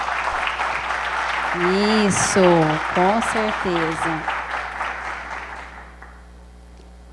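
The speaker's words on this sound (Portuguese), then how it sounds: "eu acho que a ocasião requer uma salva de palmas" Audience applause at a religious gathering event, a steady patter of clapping under a voice that fades away toward the end.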